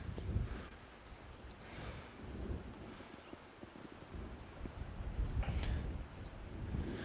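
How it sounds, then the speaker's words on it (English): Wind buffets the microphone in rumbling gusts, rising and falling throughout with a breathy outdoor roar. "It's really windy right here."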